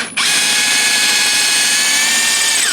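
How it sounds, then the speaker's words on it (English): A power drill boring through a wooden wall stud whirs loudly and steadily after a brief start, a continuous high-pitched grinding that holds at full strength without pause. "So I've got to drill a hole to get the wire across this stud."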